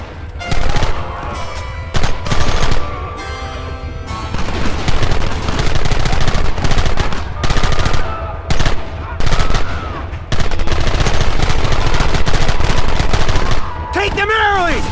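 Rapid gunfire from a Red Dead Redemption firefight, with dense bursts of shots and volleys cracking almost continuously, loud and close, with a few shouted voices mixed in.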